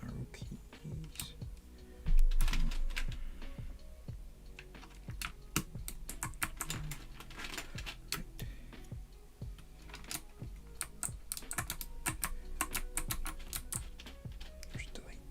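Rapid clicking keystrokes on the arrow keys of a mechanical keyboard, close and fairly quiet, a steady run of taps with brief pauses and a soft low thump early on.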